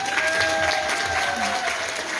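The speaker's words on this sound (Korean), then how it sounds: "박수 한번 드리세요." Brief applause from an audience at an outdoor Yecheon Arirang event, a short, even spell of clapping at moderate volume over a faint steady hum.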